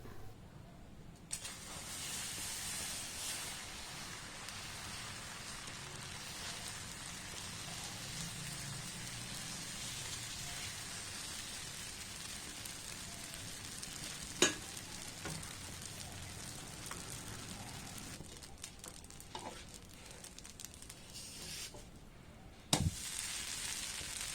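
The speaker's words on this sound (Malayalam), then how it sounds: "ഇനി നമുക്ക് ദോശയുടെ മാവ് ഇതിലേക്ക് ഒഴിച്ചു കൊടുക്കാം." Ragi dosa batter sizzles on a hot tawa with a continuous soft hiss, close by and fairly quiet, broken by a couple of sharp clicks near the middle and end.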